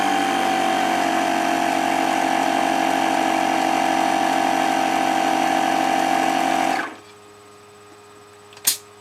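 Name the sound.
air filling Magstrike 20 blaster bladder through tire valve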